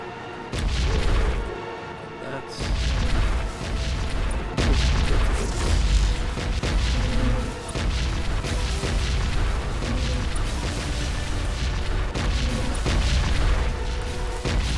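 Dense, continuous booming and crackling blasts roll on as a destroyed lure in a colony-defence video game explodes amid ongoing combat, with repeated heavy impacts layered over a rumbling battle din.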